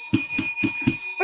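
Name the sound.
bell being rung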